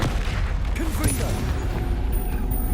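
Confringo fiery blast spell in Hogwarts Legacy, a video game: a dense, rumbling explosive burst with crackling and mechanical clatter, loud and continuous, with a faint chiming tone near the end.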